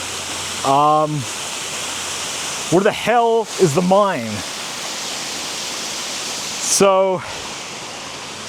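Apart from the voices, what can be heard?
waterfall near old mines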